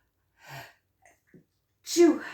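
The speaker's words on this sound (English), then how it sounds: "Excuse me, I had to sneeze." A single sharp sneeze bursts out at the end, preceded by a soft sharp inhale and a couple of tiny breathy sounds in near silence.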